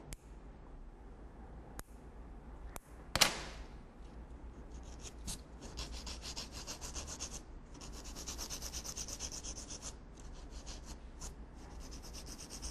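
A nail file rasping off a fingernail's free edge, soft continuous back-and-forth scraping strokes close up after a few faint taps, quiet and without talking.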